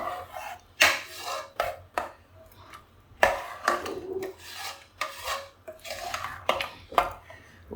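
A spoon scraping and clanking against a pot while beetroot curry is mixed with a ground cumin, coconut and green chili paste, in irregular sharp strokes, close and fairly loud, with no talk.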